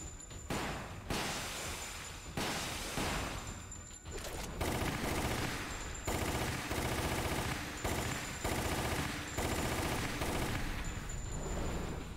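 Sustained bursts of rapid gunfire fill a Resident Evil: The Umbrella Chronicles boss fight, loud and nearly continuous with short gaps between volleys and no talk over it.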